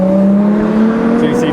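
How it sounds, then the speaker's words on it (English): Ford GT supercar roaring past on a German road, a loud sustained engine note close by with a slight pitch drop as it goes. "There's the Ford GT."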